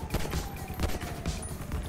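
Rapid bursts of gunfire from a shootout in GTA roleplay, loud and close, with repeated sharp cracks in a dense, uneven volley throughout.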